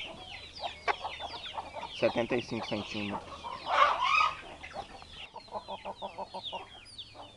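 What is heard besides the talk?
young Indian Giant mixed-breed hens clucking while weighed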